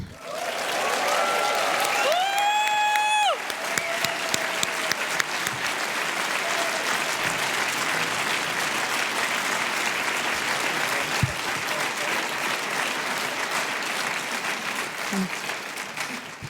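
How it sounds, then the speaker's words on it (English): Big conference audience at the DLD26 event in Munich applauds Steffi Czerny, a sustained dense roar of clapping lasting many seconds, with a brief sung or tonal flourish near the start and occasional cheers over it. "give the wildest applause possible to Steffi Czerny"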